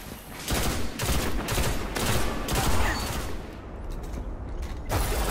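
The Red Death exotic gun firing in Destiny during an Inferno Control match, several loud close bursts of shots with short gaps, a quieter stretch of mechanical clicks, then another burst.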